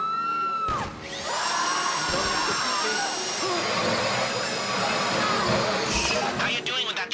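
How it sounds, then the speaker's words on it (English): A power drill whines steadily through a heist, running loud and sustained for several seconds with brief pauses and revving, while people talk tensely over it. "How you doing with that drill?"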